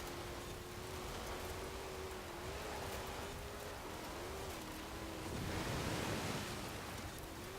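A car in the racing video game Forza Horizon 4 driving through water, a continuous wash of splashing spray over a steady engine drone, swelling louder near the end.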